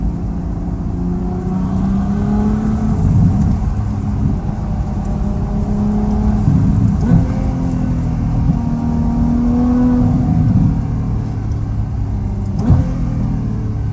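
A 2016 Ferrari F12 Berlinetta V12 fitted with an FI exhaust rumbles and rises in several revs, with a deep, loud, steady drone and occasional burbling pops, and no voices.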